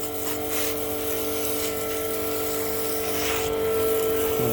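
Pressure washer machine running while cleaning an old Komatsu FG25 forklift truck: a steady close motor drone and pump whine with a sucking, surging texture that holds continuously throughout.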